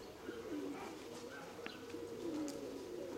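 A racing pigeon coos faintly and low from close by in a hot, windy setting, with soft chirps and background hiss and no talk.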